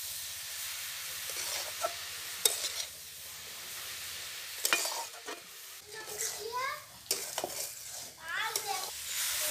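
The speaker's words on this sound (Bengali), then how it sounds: "এবার সিদ্ধ করে রাখা বাঁধাকপিটার মধ্যে দিয়ে ভালোভাবে নাড়িয়ে নেব" Boiled cabbage is stirred into fried spice paste in a pan in a village kitchen, low sizzling and hiss with scraping spoon strokes against the pan, a few intermittent clanks and brief rustling bursts, no clear talking.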